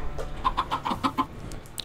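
Blocky Minecraft chickens cluck in a short run of about six soft, evenly spaced clucks, moderately near, over a low background hum.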